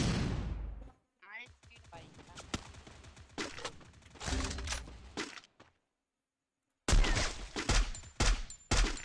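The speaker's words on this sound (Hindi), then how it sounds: "ये डबल स्नाइपर चला रहा है" Sharp sniper rifle shots and bursts of gunfire in the Free Fire battle royale game, loud cracks arriving in separate clusters with short silent gaps, and a voice talking between them.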